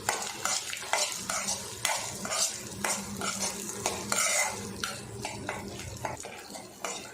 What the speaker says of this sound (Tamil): பொட்டுக்கலையும் வேர்கடலையும் பார்த்தீங்கன்னா வதங்கிடுச்சு